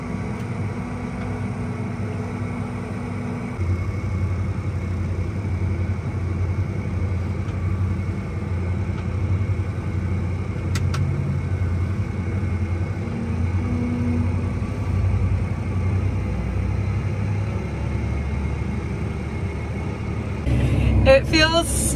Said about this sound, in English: It feels so good to be back in the tractor cab.